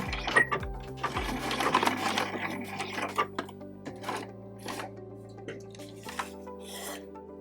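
A sewing machine stitching around a small fabric heart ornament, running in short bursts of rapid mechanical clatter with brief pauses between, close and moderately quiet, no voices.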